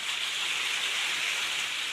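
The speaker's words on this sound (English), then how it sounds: "that's rain." A quick passing rain shower hisses steadily outdoors, a dense, even wash of falling drops with no voices over it.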